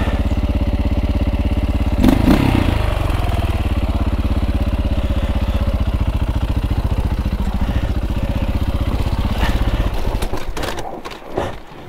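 A KTM 450 EXC dirt bike's single-cylinder engine thumps and idles loud and close on a single-track trail, clattering briefly, then sputters and dies out near the end.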